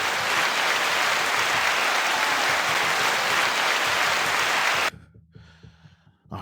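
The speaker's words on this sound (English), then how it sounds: "Another clap." An audience clapping in a dense, loud, continuous round of applause that stops abruptly, leaving a few faint breaths and small sounds afterward.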